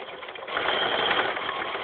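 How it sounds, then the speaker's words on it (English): A sewing machine stitches a quarter-inch seam across a T-shirt quilt block, a steady, close whirring hum that runs the full length and swells slightly louder after the first half second. "you just go ahead and sew across the top of your block"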